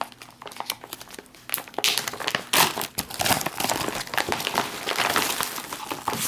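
Plastic packaging of an MRE meal bag, a Menu No. 7 meatballs in marinara sauce kit, being torn open and handled, with loud, continuous crinkling and rustling up close that grows busier and denser as it goes.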